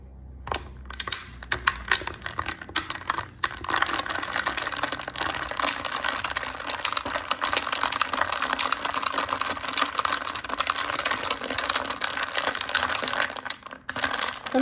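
A spoon stirs iced coffee with Delight liquid creamer, loose ice cubes clinking and rattling rapidly against the glass in a dense, continuous close-up jangle that stops near the end.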